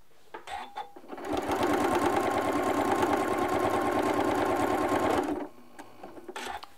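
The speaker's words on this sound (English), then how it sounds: "I'm going to stop and back stitch so I can lock my stitches" A sewing machine stitches quilt binding in a steady, fast, rattling run of about four seconds, with quieter handling noises before it starts and after it stops.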